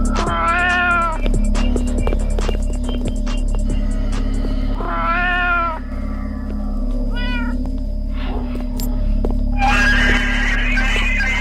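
Cartoonish cat meows from the Roblox game Disaster Island Survival sound loud and repeated in bursts over a steady game hum, mixed with a horse-like whinny and other game effects, with no talk.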